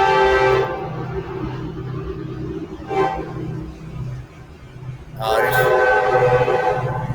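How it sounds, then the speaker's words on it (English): A powerful freight train approaches, with a rumbling low drone beneath repeated horn blasts: one at the start, a short toot midway, then a longer loud blast near the end. "here comes the train."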